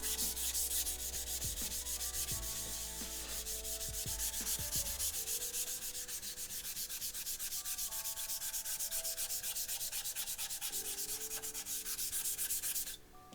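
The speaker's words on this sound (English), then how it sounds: "And so I'll do the bottom half here with a Rust Eraser." Rust Eraser block rubbed back and forth across a whetstone to clean its surface, a continuous gritty scrubbing with fast rhythmic strokes, close and steady with no talk.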